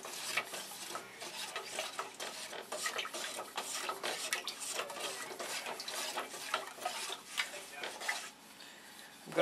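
Paint being mixed in a can, a close, continuous run of rhythmic wet swishing and scraping strokes that eases off near the end.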